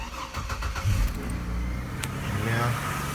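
A 2002-2005 Chevrolet Trailblazer 4.2L engine cranks and catches, settling into a steady idle heard close and fairly loud, with no talking over it.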